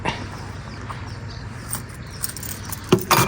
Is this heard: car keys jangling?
yes